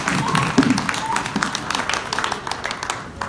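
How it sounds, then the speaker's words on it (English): A crowd at a reparations and self-government convention in Washington, DC claps for two human rights defenders, a lively patter of hands that swells early and then gradually thins out. "Please give a round of applause to the great human rights defender, Leila Porter, and Cecile Johnson."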